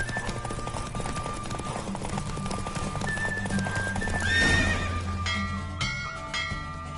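In a horse race in The Witcher 3 game, a horse gallops with rhythmic clip-clopping hooves and loud neighs, mixed with game sound effects and music, all moderately close.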